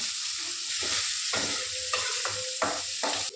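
Chopped onion fries with garlic in a hot pan, giving a loud, constant sizzle punctuated by rhythmic stirring strokes and scrapes of the spatula.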